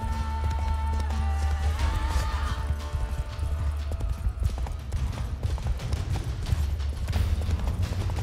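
A horse galloping in The Witcher 3, a fast rhythmic thudding of hooves running steadily with ambient game sound around it, with a voice talking.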